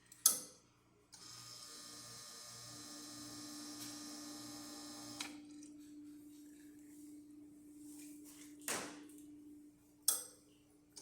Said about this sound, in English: I'm just going to pull a shot.